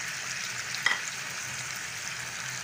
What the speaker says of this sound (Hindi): अब इसमें टमाटो और हरी मिर्च ये सब डाल के इसको मिक्स कर लेंगे।